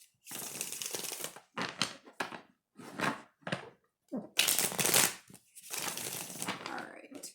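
Tarot cards are shuffled in quick papery bursts, riffling and slapping in irregular bunches close by, with short silent gaps between.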